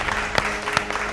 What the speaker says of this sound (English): Guys, give yourselves a round of applause.